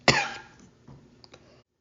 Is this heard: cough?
yes